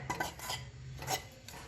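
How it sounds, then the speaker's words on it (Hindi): Dry coconut powder being stirred as it roasts in a kadai over a low flame with no ghee or oil, giving soft scraping rasps of a spoon against the pan, close and steady. "नारियल के बुरादे को भी हम इस तरह से फ्राई कर लेंगे।"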